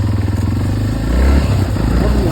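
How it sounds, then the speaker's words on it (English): A Yamaha TTR250 four-stroke dirt bike on an enduro trail loop, its engine droning steadily close by with a low throaty note and light clatter as the rider works through corners. "Now these little 4-strokes are gutless, these TTR250s."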